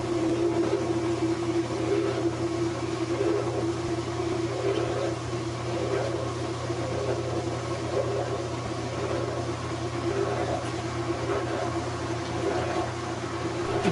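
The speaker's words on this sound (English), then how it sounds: "the washer is supposed to start spinning" A Whirlpool washing machine motor spins steadily on a test cord, giving a continuous even hum with a low drone and faint rattling throughout, loud and close with no talk.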